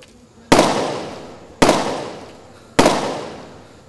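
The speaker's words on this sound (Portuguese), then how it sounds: "Alguns tiros foram disparados." Three loud gunshots fired during a prison escape attempt at a penitentiary, evenly spaced about a second apart, each a sharp crack followed by a long echoing decay outdoors.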